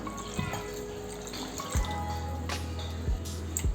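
Water poured from a tumbler into blended amla (Indian gooseberry) juice, a brief splashing trickle with a few drips, close and moderately quiet, no talking.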